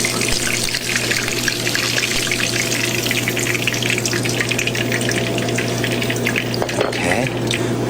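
Yuca-stuffed shrimp frying in hot oil, a loud continuous crackling sizzle with a low steady hum beneath it, lasting throughout without pause.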